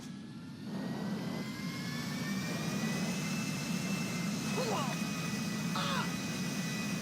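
Jet aircraft engines roar steadily in GTA Online, a continuous loud whine with a rising tone over broad rumble, joined by brief faint squeaky chirps.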